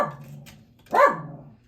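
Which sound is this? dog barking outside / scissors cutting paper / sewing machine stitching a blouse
dog barking outside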